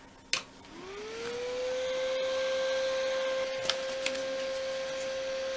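An LH brushless 8025B fan rated at 4500 RPM, powered from a bench supply, spins up after a click to a steady, clear whine over airflow hiss, with a few small knocks.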